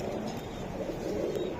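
White Budapest pigeons coo softly and continuously at close range, a low murmuring burble with faint background hiss and no talk.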